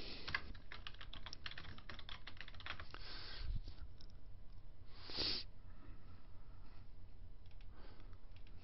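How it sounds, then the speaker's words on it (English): Computer keyboard typing, a run of quick soft key clicks in uneven bursts with short pauses, close and faint, no voices. "I'm going to type in"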